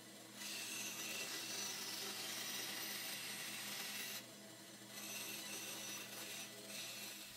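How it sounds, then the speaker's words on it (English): A bandsaw cuts micarta knife handle scales with a steady, even whine and rasp in two long passes, broken by a short pause between them. "I'll mark out the profiles of the handle scales and cut them roughly to shape on my bandsaw"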